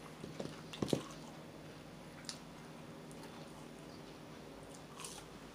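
Close, wet crunching and chewing of hard McDonald's chicken nuggets, with a few sharp bites early on and softer mastication and smacking continuing quietly throughout.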